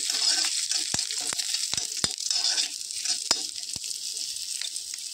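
Mustard seeds, curry leaves and green chilies fry in hot mustard oil with a bit of salt, making a bright continuous sizzle broken by sharp scattered pops and crackles throughout.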